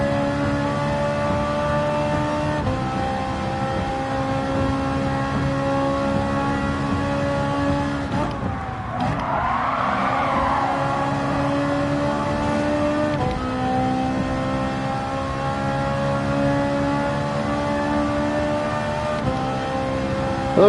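A Ferrari race car engine in Gran Turismo 7 during a race on the Tokyo Expressway South circuit, a steady droning whine with brief blips in revs, continuous and fairly loud throughout.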